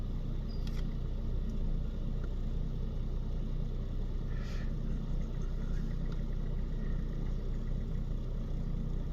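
Ford Falcon with the big Barra engine idling, a steady low rumble heard from inside the car, constant and even throughout with faint small clicks above it.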